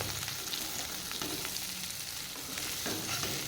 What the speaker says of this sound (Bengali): এখানে ভাজাটা হচ্ছে আজকে অনেকটা তেল পড়ে গেছে আমার কাছে ভাজাতে